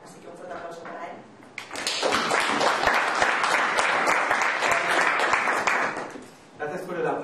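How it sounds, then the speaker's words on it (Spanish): Audience applause for a speaker at a public-speaking club in Madrid: a voice talks briefly, then a full burst of clapping swells and holds for several seconds before fading as the voice resumes. "Gracias por el aplauso."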